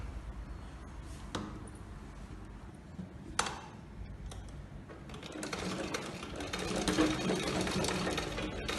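A sewing machine hums continuously while stitching palazzo pants, with a couple of sharp clicks early on and the motor growing louder and busier toward the end, heard close up with no talking.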